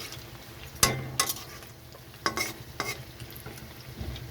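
Potato cheese balls fry in oil with a soft background sizzle, broken by several sharp clinks and scrapes of a utensil against the pan at irregular intervals.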